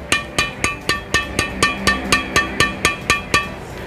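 Badminton racket strings on a Yonex Arcsaber 7 Play, strung at 28 lbs, are tapped about a dozen times in an even rhythm, each a short, close, slightly dull ping.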